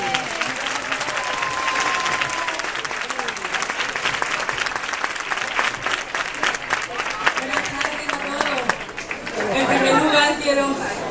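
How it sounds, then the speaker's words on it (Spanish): A crowd gives warm applause at a Christmas lights presentation and switch-on at a department store in Jerez: sustained clapping with crisp individual claps and murmured chatter, growing louder near the end. "Démosle un fuerte aplauso a Laura Gallego."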